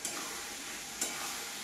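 White poppy seed paste fries in a pan, a soft steady sizzle with two brief scraping stirs of a spoon, close and fairly quiet.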